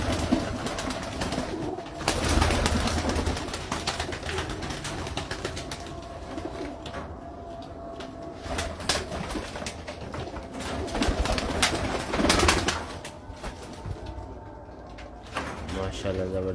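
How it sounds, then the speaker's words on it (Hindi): Paired breeding pigeons on a rooftop loft in Lahore coo intermittently, low soft calls woven under near, ongoing talk, with clattering and knocking noises and a couple of louder bangs. "ये इनको जोड़े वाले कबूतर हैं जी"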